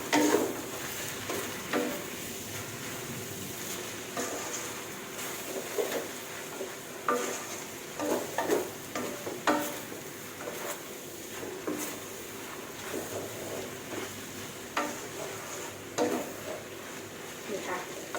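Hokkien noodles are stir-fried in a pan, a low steady sizzle punctuated by repeated scraping and tossing clatters of a utensil against the pan, fairly quiet throughout.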